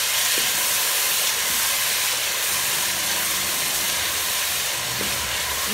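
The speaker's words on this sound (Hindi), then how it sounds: "इसको अच्छी तरह से हम भून लेंगे।" Spices with a spoonful of red chilli frying in a pan for chicken jalfrezi give a steady, loud, even hiss and sizzle throughout, with no speech.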